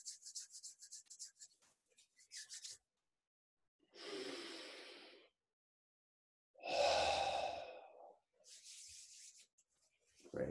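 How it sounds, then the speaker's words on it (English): A person takes slow, deep breaths, a long drawn inhale followed by a big audible exhale, repeated in a steady guided rhythm, close and clear with soft pauses between breaths. "Breathe in deep. And a big exhale,"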